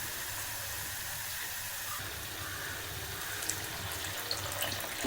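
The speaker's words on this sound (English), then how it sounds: "Pour water as much as you require." Water poured into a pan of cowpea bean curry with masala paste gravy, a steady close hissing splash running throughout without a break.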